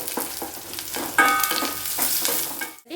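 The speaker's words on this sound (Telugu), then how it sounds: "దాంట్లోనే కరివేపాకు వేసుకునేద్దాము వేసుకొని కొంతసేపు వేపుకుందాము చూడండి కొంతసేపు వేగనిద్దాము ఆనియన్స్ని" Onions fry with curry leaves in hot oil, a steady close crackling sizzle with a few brighter spits and faint stirring scrapes, no voices.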